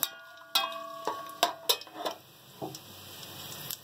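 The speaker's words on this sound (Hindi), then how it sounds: "जो हमारे पास चावल भिगोने पड़े हैं वो हम इसमें डाल देंगे" Soaked rice goes into a pot of fried garam masala for a dhaba-style zeera chawal, bringing a few sharp metallic clinks of utensil on cookware followed by a soft, quiet rustle.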